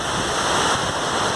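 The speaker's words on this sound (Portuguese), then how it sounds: "Esse é o cenário da terceira cachoeira, Peirópolis, Uberaba, Minas Gerais, Brasil." Waterfall at the third cascade of Cachoeira do Clemente in Peirópolis, Uberaba, Minas Gerais, Brazil, a steady broadband roar of falling water filling the whole clip, loud and continuous without pauses.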